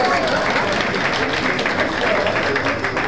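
An audience at a live stage event claps in dense, continuous applause close by, sustained for the full few seconds as a broad crowd roar.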